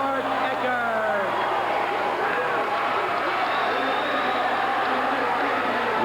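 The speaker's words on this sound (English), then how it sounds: "the crowd is excited, and so are we" Excited crowd noise fills a high school boys basketball state semifinal gym, a steady dense roar of voices and shouts running throughout at full level.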